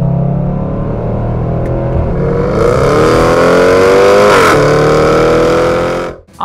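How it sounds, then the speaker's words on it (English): A BMW X4, a two-tone near-SUV, revs its engine in a loud, close, rising pull lasting several seconds with a rattly metallic edge before cutting off abruptly. "The X4, which is a two-tone almost SUV, handles surprisingly well, and it sounds like someone is playing tin maraca filled with nails."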